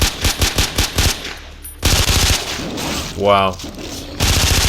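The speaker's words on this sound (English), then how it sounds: "I would honestly even call it a machine pistol." Rapid machine-pistol fire in Far Cry 3, with loud bursts of closely spaced shots at the start and end. A brief exclamation from a voice breaks the quiet middle stretch.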